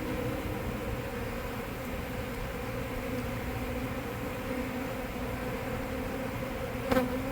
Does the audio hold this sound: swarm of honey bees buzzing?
yes